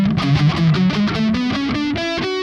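Distorted electric guitar plays a full Phrygian mode scale position, a steady run of single picked notes climbing upward with a sustained, saturated tone and no voice.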